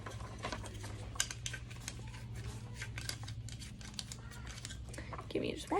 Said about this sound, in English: Hold on 1 second while I tape this down.